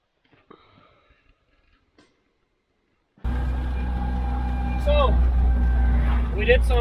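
An old Jeep starts up after quiet shuffling and runs on a test drive, a steady close low engine rumble with a few squeaks and whistles over it; a person speaks briefly.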